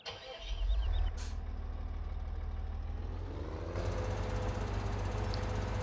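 A Massey Ferguson tractor in Farming Simulator 17 starts up and settles into a steady, loud diesel idle, its low rumble rising slightly toward the end with no talking.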